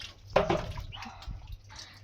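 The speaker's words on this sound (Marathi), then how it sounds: "ह्यातलं पाणी उपसते" Water is scooped out of a drum in a village home, giving a single close splash and slosh followed by faint drips and trickles.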